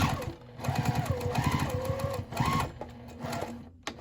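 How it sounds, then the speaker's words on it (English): Sewing machine stitching the long sides of a fabric bag, a rapid mechanical chatter of the needle in runs with brief pauses and speed changes, close and loud. "you're going to sew the longest sides together"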